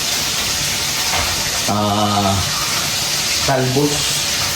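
Food frying in a pan gives off a loud, steady, hissing sizzle throughout, while a voice speaks briefly twice over the noise.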